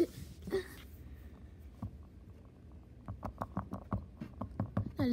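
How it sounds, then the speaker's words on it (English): Light, irregular tapping and bouncing taps of a small toy, quiet at first then quickening into a cluster of soft, close knocks. "That is the sound of his toy bouncing."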